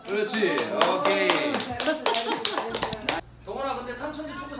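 Family members clap their hands together at home, a loud burst of claps mixed with excited chatter and laughter, then a brief pause before voices resume.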